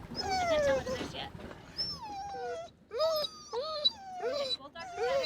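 Two dogs aboard a sailing boat whimpering and whining in high, wavering cries, close by and repeated in short bursts.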